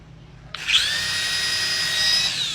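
A toy helicopter's small electric motor whirs up abruptly to a high, loud, steady whine, sounding close and continuous after a quiet start.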